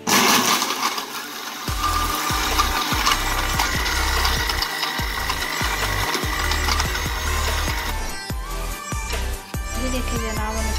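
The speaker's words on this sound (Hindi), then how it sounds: "हम इसको ग्राइंड करते हैं और फिर आपको इसकी थिकनेस दिखाते हैं।" A kitchen grinder blends an injeer (fig) shake with added sugar, running loud and steady throughout with a continuous whirring roar, some uneven knocking pulses as the contents churn, and a brief dip near the end.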